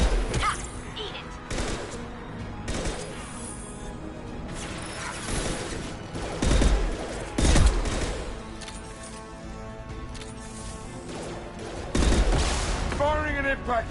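Impact shot gunfire from the video game Mass Effect 2 cracks out in scattered heavy blasts and thuds over a dense, busy game soundscape, with a player's voice talking through parts of the action.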